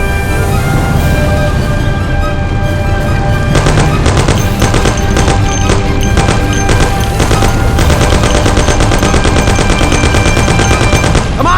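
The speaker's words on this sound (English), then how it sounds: "Thompson, you and Sam shoot them" Dense automatic gunfire from the video game Mafia, with a Thompson among the weapons, rattles on in loud, continuous bursts of rapid shots, overlapping with other weapons and game noise for the whole stretch, with no talk.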